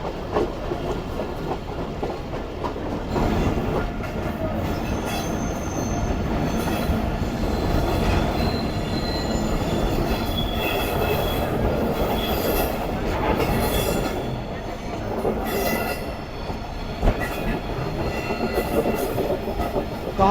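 A passenger train on the Larkana to Kotri railway line in Pakistan runs steadily along the tracks, with a continuous rumbling roar, clattering wheels and recurring high wheel squeals throughout.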